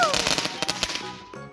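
Firecrackers set off outdoors in the evening, a rapid crackling burst of sharp bangs up close that dies away into ringing, with faint voices nearby.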